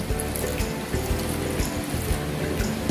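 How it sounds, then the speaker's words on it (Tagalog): Water poured steadily into a cooking pot for lechon paksiw, a continuous close splashing stream lasting throughout with no voices. "Maglalagay po tayo ng tubig."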